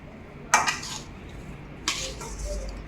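Spoon scraping and clinking against a metal vessel while churma ladoo mixture is mixed for Ganesh Chaturthi, two short bursts of clatter separated by a quiet pause, close and fairly faint.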